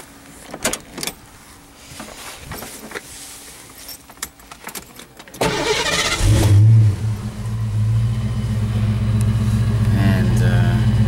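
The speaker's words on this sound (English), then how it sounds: "Let me start the car up for you." A 1991 Ford Mustang GT convertible V8 cranks and catches after a few seconds of keys jangling and interior clicks, then settles into a loud, steady idle with a slight rev as it fires.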